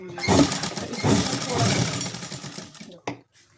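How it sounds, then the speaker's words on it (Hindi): Sewing machine stitching pant fabric runs in a loud, steady buzzing whir for about three seconds, then stops with a short clack. "इस निशान की जगह थोड़ा 1 पॉइंट अंदर सिलाई लगाएंगे"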